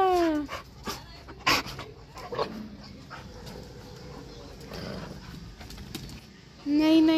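A nearby dog barks sharply at the start and again at the end, with quieter whimpers and shuffling in the gap.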